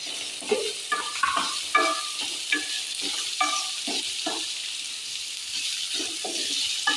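Chopped onion and green chillies sizzle in a hot pan, with steady frying hiss and repeated scraping stir strokes, close and alone.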